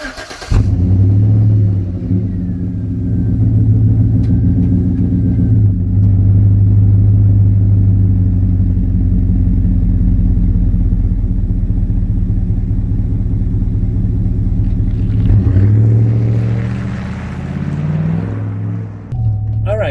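A 2013 Chevrolet Suburban with about 150,000 miles drives off, its engine a deep, steady rumble heard from inside, swelling briefly as it pulls and easing near the end.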